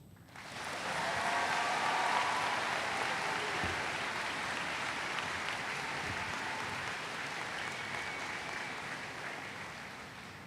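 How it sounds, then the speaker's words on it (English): A commencement audience at a high school graduation applauds a graduate with a sustained, dense round of clapping that swells in the first second and holds steady for about ten seconds. "Please welcome and applaud again for Katie Shao."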